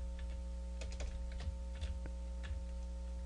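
Keys on a computer keyboard are tapped in short, uneven bursts of quiet clicks, heard close over a steady low electrical hum.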